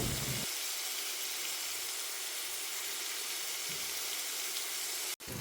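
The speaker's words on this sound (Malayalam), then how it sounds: "ചെറിയുള്ളി ഒന്ന് വഴന്നു വരുമ്പോൾ" Shallots sautéing in a pan for a brinjal thoran produce a steady, even sizzle and hiss that continues throughout, briefly cutting out near the end.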